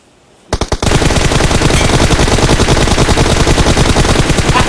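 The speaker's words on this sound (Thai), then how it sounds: "ตัวข้างนี้ยิงสไนเปอร์มา" Gunfire in the mobile battle-royale game PUBG Mobile: a couple of sharp opening shots, then a loud, dense, sustained rattle of rapid shots that carries on without pause.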